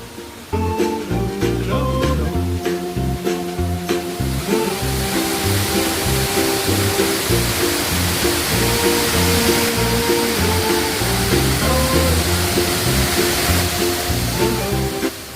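Manneera waterfall at Konni, Pathanamthitta, roars steadily and loudly, a dense unbroken rush of falling water with no voices over it.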